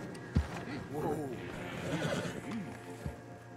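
A horse in the Red Dead Redemption 2 video game gives a couple of close, wavering neighs, with a few hoof knocks over a low background rumble.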